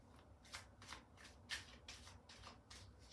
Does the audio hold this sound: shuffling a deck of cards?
yes